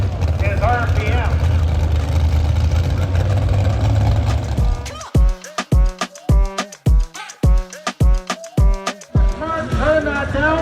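A pulling tractor's engine roars steadily and loudly at an outdoor tractor pull in Glencoe, Ontario, then drops away as an announcer's voice takes over in broken phrases.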